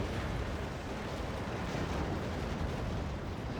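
Missile strikes in the real-time strategy game Act of Aggression, a dense, continuous roar of overlapping explosions and rumbling blasts with no pauses, loud and steady throughout.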